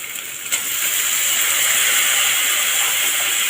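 Onion and chopped tomato sautéing in a pan for a mixed vegetable bhaji, a steady loud broadband hiss and sizzle running throughout with one small clatter near the start and no talking.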